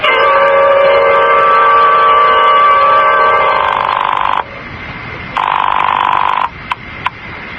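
Loud telephone bell ringing as a sound effect in a 1980 CBS Radio Mystery Theater radio drama: a long bright ring, a pause, a second shorter ring, then a couple of clipped bursts.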